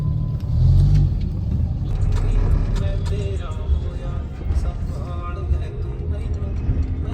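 A car drives through heavy city traffic, giving a steady low engine and road rumble with passing vehicle noise, close and continuous while a person talks over it.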